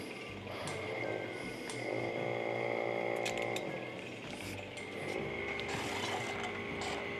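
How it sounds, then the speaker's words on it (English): A pump runs while transferring pumpkin beer during home brewing, a close, continuous mechanical whir with a rattling, ticking texture and a steady hum that shifts slightly as the flow changes. "Turn the pump on."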